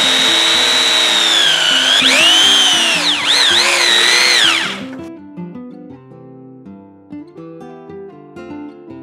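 Power drill boring a hole through wood held in clamps, a loud high whining bore for about five seconds that rises and dips in pitch as the bit bites, then stops, leaving faint background music.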